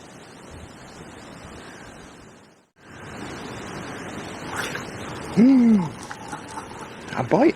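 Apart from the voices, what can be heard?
wind blowing by a river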